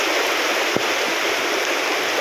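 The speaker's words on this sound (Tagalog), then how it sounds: "nilulusong namin ang tubig" Continuous loud rushing and sloshing of water, like someone wading through deep floodwater during a typhoon with rain, with one brief thud partway through.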